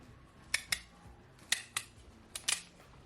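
A knife slicing peeled yams into rounds on a cutting board, giving about six crisp, close, quiet cuts in uneven pairs against a near-silent kitchen background.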